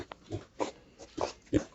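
Soft, short grunts and snuffles from small Vietnamese piglets, four or five irregular bursts close by, fairly quiet with light background noise.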